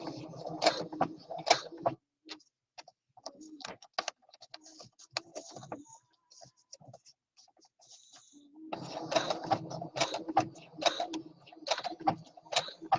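Sewing machine running a three-thread triple stitch along the thigh cuff of a leg sleeve, in two loud mechanical bursts of rapid stitching at the start and end with a quieter stretch of clicks and pauses between.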